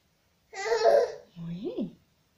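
An infant babbles in two short bursts, the first a breathy, voiced string of syllables and the second a rising and falling coo, close and fairly loud against a quiet room.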